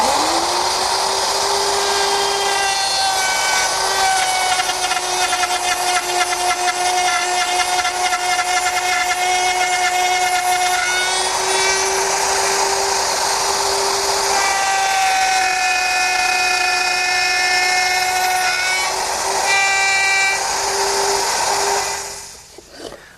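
A router fitted with a dovetail bit whines loudly and steadily as it cuts tails in the wooden treads of a Shaker step stool, its pitch shifting slightly under load before the motor spins down at the end.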